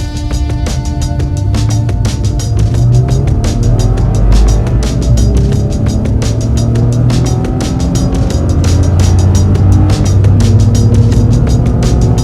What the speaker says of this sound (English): Revving really high.